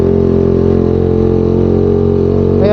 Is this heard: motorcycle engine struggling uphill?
yes